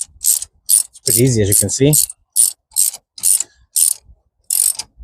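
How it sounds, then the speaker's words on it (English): A ratchet tightens the bolt on the 12V battery bracket of a Kia e-Niro, giving a close series of sharp, evenly spaced metallic clicks, with someone briefly speaking partway through. "Screw the bolt, tighten up the bolt back in place."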